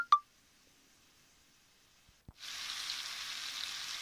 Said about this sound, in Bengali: লবণটা দিয়েও আমি ভালো করে কষিয়ে নিব